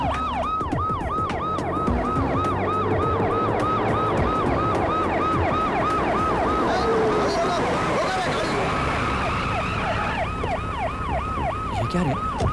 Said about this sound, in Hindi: ये आवाज सुन रहा हाँ पुलिस का सायरन है